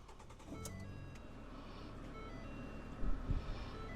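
A 2012 Ford Fusion is started with the key from inside the cabin. A quiet electric whine and a few ticks come first, then a brief low rumbling burst of cranking and catching near the end.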